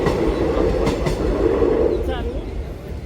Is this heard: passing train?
yes